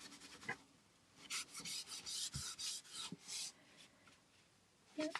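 A wet wipe rubs paint over a primitive Easter bunny craft piece, giving a run of close, raspy scrubbing strokes in quick bursts, with a few soft knocks between them.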